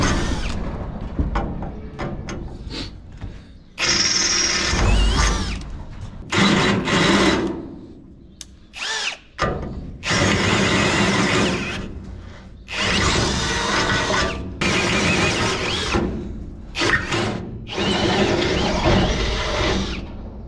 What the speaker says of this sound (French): Donc, pour ça, je vais percer.